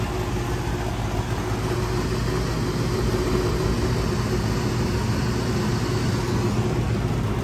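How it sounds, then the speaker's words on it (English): An HVAC blower motor runs steadily, powered through a contactor during a circuit board check, giving a continuous, even low rumble and whir with no break from start to finish. "since we gave power from this contactor to the blower contactor, that's why the blower is running."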